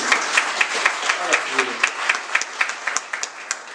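A church congregation claps during a Sunday worship service, with crisp, fairly regular claps in a loose rhythm that rise over a soft background of voices.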